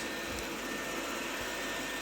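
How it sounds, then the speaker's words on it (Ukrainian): A robot vacuum cleaner runs indoors with a steady, even whir that holds at a constant low level throughout, with no talk over it. "Це робот-пилосос."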